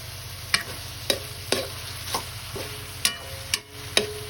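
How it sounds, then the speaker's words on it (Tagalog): Bacon sautéing with onion and garlic in a pan: a low sizzle under regular spatula scrapes and taps, about two per second, close and clear. "yan ang bacon ginisa ko muna"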